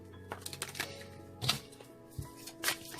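A deck of cards is shuffled during a pick-a-card reading, giving faint, scattered papery clicks and a few short riffling bursts in a quiet room, with no talking.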